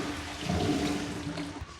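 Water drains from a sink after the plug is pulled in a tiny home under construction, a steady close rushing gurgle lasting under two seconds with no talk.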